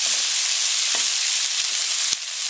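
Bean sprouts fry in a pan while being stirred, giving a loud, steady sizzling hiss with a few soft scrapes of the utensil over 2.5 seconds, no speech.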